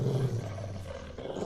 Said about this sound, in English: was attacked by the same wolves that had chased her father